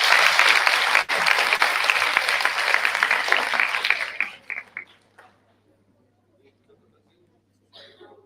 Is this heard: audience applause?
yes